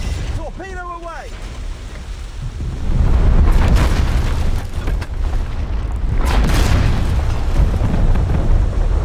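A submarine launches a torpedo in the War Thunder Mobile game, giving a deep, rumbling boom with a churning, water-like roar that swells and holds. A brief chirping tone sounds at the start.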